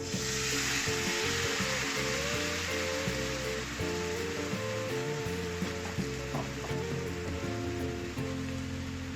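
A sizzling pan with black pepper and lemon juice being stirred while making garlic parmesan rice, a steady crackling hiss running the whole time beneath continuous background music.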